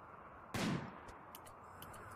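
A single gunshot from colonists firing in the colony-building game Rimworld, one sharp, fairly faint crack with a short fading tail, followed by a few small distant pops.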